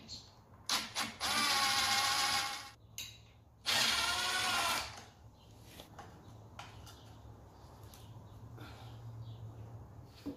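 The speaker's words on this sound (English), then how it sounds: "taking out this two bolts right here so that this upper oil pan will come off" Two long bursts of a ratchet or power driver working the upper oil pan bolts on an Audi A4 engine, close and loud, then quieter clinks and handling noise.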